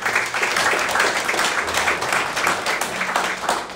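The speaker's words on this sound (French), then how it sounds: "On peut l'applaudir au groupe des femmes de l'Église." Churchgoers clap for the church women's group, a dense, fairly soft patter of applause from the congregation that carries on evenly without any talking.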